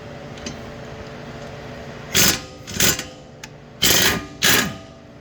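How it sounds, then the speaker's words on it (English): A 21mm socket, likely on a power tool, loosens bolts on the suspension of a Dodge Charger R/T in four short, loud mechanical whirring bursts separated by quiet gaps. "I'll be using a 21mm socket to remove the bolts from here."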